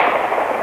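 A single AEA Challenger Pro 357 airgun shot, loud and close, a brief dense burst of sharp noise.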